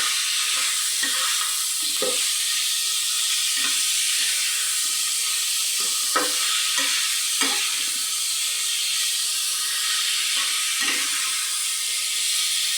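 Ginger-garlic paste fries in a pan with a constant bright sizzle and hiss. Occasional soft scrapes and taps of stirring break through at uneven intervals over several seconds.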